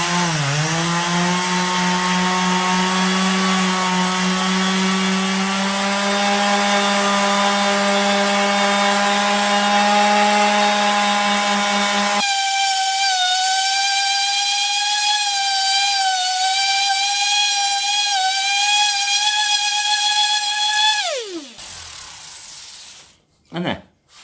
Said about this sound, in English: So just using one clean disc straight onto it and work just on that bit.